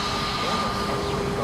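Airbus A320 airliner jet engines run on an airport taxiway, a steady, loud, whining drone with a constant tonal hum that holds evenly throughout.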